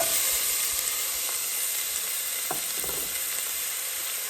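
White onion frying in a pan for Caribbean curry goat gives a steady, even sizzle and hiss with a few faint clicks from stirring. No voices.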